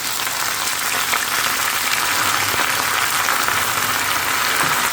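Jute leaf greens dropped into a pan of browning garlic and onion, a loud, steady hiss of sizzling oil filling the whole stretch without pause.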